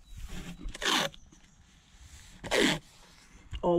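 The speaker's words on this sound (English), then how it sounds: "So, run the masking tape" Masking tape being pulled and run along an outdoor wooden fence post, two short ripping strips about a second apart, close and fairly quiet, with a faint click at the end.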